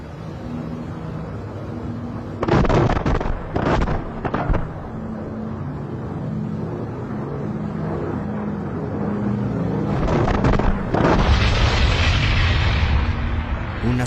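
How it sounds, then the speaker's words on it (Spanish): Several heavy booming bomb and artillery blasts in quick succession along a coastline, then a sustained rumbling roar later on, over a constant low drone with some voices underneath. "Las explosiones caían en la línea de la costa. Sonaban muy cercanas."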